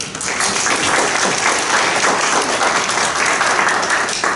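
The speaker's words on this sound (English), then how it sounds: "A round of applause." A church congregation gives a guest speaker a round of applause, dense, loud, sustained clapping that fills the room evenly from start to finish.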